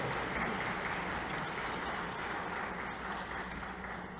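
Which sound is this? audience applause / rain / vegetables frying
audience applause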